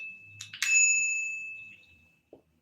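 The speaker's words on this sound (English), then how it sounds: "Let me hit my bell one more time." A small hand bell is struck once up close at a public meeting. Its bright metallic ring hangs and slowly fades over about a second and a half, with no voices over it.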